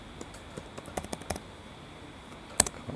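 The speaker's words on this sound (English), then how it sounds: "so I can just hit enter and type that in" Someone types on a computer keyboard while writing code, with irregular sharp key clicks that cluster into bursts and end in one louder keystroke. Clicks sit close against a quiet background.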